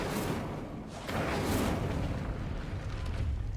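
Incendio fire spell cast in Hogwarts Legacy, a loud roaring whoosh of flame that surges and holds as a dense, continuous blast.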